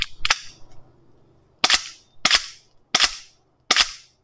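A SIG M17 gel ball blaster with an upgraded spring kit fires hardened gels at a target about 40 feet away, five sharp snapping shots, loud and close, spaced roughly a second apart after an initial double pop.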